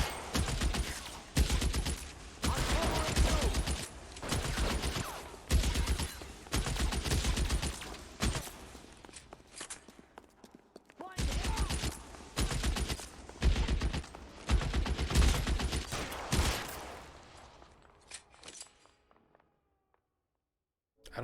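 Gunfire bursts from the video game LA Noire, loud, dense volleys with short pauses between, repeating through most of the stretch before fading out near the end.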